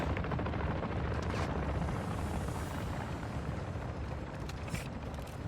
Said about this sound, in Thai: เฮลิคอปเตอร์กำลังมา